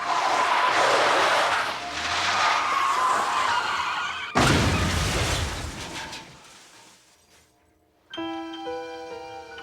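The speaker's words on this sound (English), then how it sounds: "The Egglestons' car careened off this bridge and plummeted into the river below" A dramatized crash of a family car careening off a bridge and plunging more than 80 feet into a river: loud rushing and crashing noise, a sharp impact burst, fading rumble, then a ringing musical sting.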